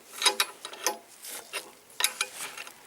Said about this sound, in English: struggling to put a bolt in a bike